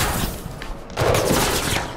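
Gunfire in the parkour game Mirror's Edge Catalyst, a dense, steady rattle of shots that grows louder after a brief dip, alone without talk.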